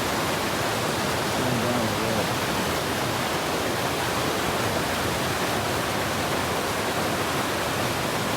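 A waterfall spills over basalt rock in the Sierras, producing a steady, loud, unbroken roar of rushing water with no pauses.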